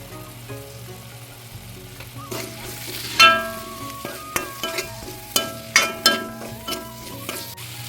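Tomatoes cooked down with coriander powder in a pan for a soya chunks curry sizzle steadily up close, while a spoon stirs and knocks sharply against the pan several times, the clinks coming in an uneven rhythm.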